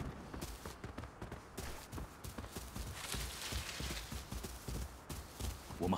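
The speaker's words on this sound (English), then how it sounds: "I'm hearing his footsteps." Enemy footsteps in the mobile shooter Arena Breakout, a rapid irregular run of soft thudding steps, faint and somewhat distant, continuing through the whole stretch with no voices over it.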